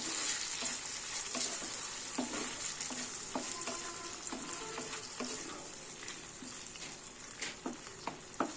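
Cauliflower chili frying in a pan gives a continuous sizzle while a spatula stirs it, with repeated scraping strokes and light clicks that grow more scattered toward the end.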